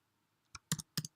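Six quick, crisp keystrokes on a computer keyboard, heard close and alone after a brief silence, arriving in uneven pairs.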